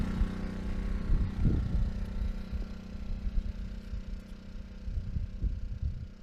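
A Ryobi 900 watt propane portable generator runs at a steady idle, its small engine giving a low, even drone with slight rhythmic throbbing, heard nearby and alone without any talking.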